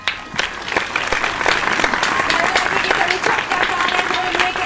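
A studio audience at a Malaysian music awards show claps loudly and continuously, dense applause filling the whole stretch with scattered sharp claps.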